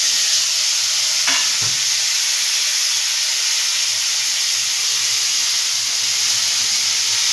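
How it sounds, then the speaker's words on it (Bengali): Tomatoes go into a pan of blackened mustard seeds for a tomato chutney, setting off a constant loud sizzle and frying hiss with a brief clatter near the start and no talk. "সর্ষেটা কালো হয়ে গেলে এবার আমি টমেটোগুলো দিয়ে দেবো"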